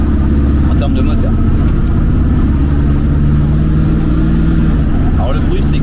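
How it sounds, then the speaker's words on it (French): A Pontiac Firebird with a 6.6-litre engine growls steadily at low revs while driving, a loud continuous rumble heard from inside the car throughout. "On a 6 litres 6 de cylindrée, mais ça grogne."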